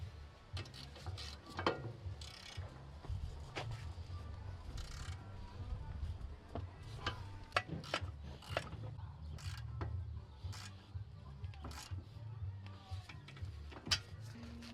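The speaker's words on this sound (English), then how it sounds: "then we're going to tighten down the top bolt, the bottom bolt, the tie rod end, and the axle nut." Ratchet work on a Honda's suspension bolts during a wheel bearing job: a steady low mechanical hum runs under repeated sharp clicks and taps spread through the stretch, fairly quiet and close.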